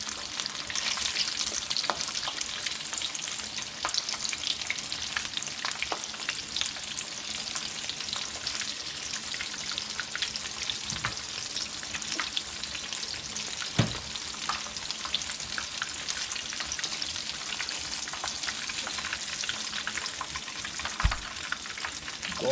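Tempura-battered shrimp deep-fry in hot oil, giving a continuous dense crackling sizzle with scattered sharper pops, steady and close for the whole stretch with no talk.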